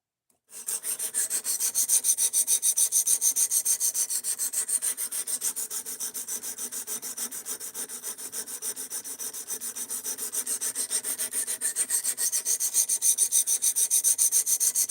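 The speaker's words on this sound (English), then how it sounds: "it's taking forever to fully reprofile this edge, and I'm still not feeling a burr" A D2 steel Ozark Trail axis-lock knife edge being reprofiled on a sharpener, producing a steady, close, continuous rasping scrape with fast, even strokes for the full duration.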